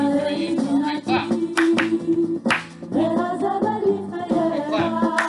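Dancers clapping in time during an Israeli folk dance session for Yom Ha'atzmaut, sharp rhythmic claps over loud recorded music, with a brief spoken cue now and then.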